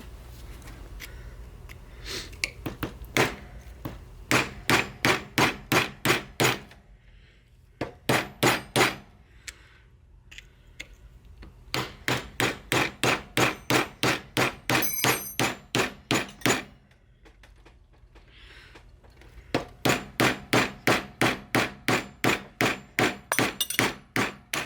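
A hammer drives a screwdriver into a bushing on a Ford row-crop tractor's wide front axle. Loud metallic blows come in fast, even bursts of about eight to twelve strikes, with short pauses between the bursts.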